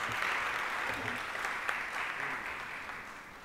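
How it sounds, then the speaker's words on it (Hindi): Audience at a seminar of the Mumbai Urdu Festival 2022 applauds to welcome a guest, a dense, steady clatter of many hands clapping that fades slightly toward the end. "बहुत ज़ोरदार तालियों से उनका इस्तकबाल किया जाए।"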